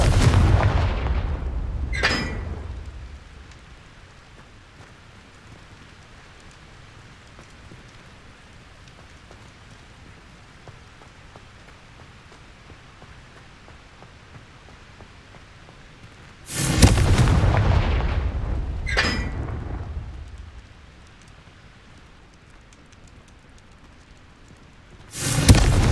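Loud fiery blasts from the Confringo spell in Hogwarts Legacy, one burst near the start and two more near the end, each a sharp boom trailing into crackling roar, separated by a long stretch of faint rumbling ambience.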